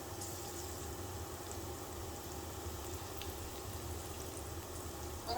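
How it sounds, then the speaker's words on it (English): Vegetables sauteing in a pan during a cooking class, a steady, quiet frying hiss that carries on evenly without talk. "Let those saute for a minute."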